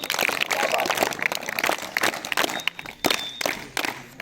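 Loud, sustained applause from students at a school quiz at Government Intermediate College Silingi in Chamoli, Uttarakhand, after a correct answer. The clapping is dense and close, with uneven peaks, and runs for the whole stretch.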